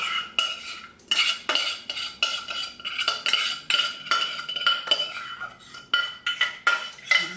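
Metal utensils clink and scrape against a baking dish in a series of bursts as cheese mix is spooned over greased potatoes, with brief pauses between strokes and no talking.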